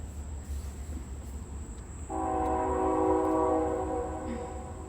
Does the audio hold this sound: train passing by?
yes